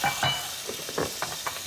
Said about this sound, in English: I'm gonna add my onions back to the skillet